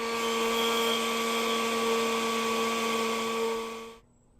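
A blender whirs steadily as it purees charred tomatoes and onion for a spicy harissa sauce in a backyard barbecue setting. The motor sound is loud, even and continuous, then cuts off abruptly near the end.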